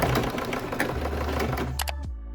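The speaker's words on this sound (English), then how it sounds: "Stitch in place at 5 mm from the edge." A sewing machine runs a fast continuous stitch seam on fabric for a tote bag, steady mechanical whirring up close that stops abruptly near the end with a couple of clicks.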